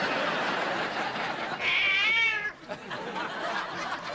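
A single drawn-out cat meow rises and wavers for about a second over a noisy, busy background, then fades back into the din.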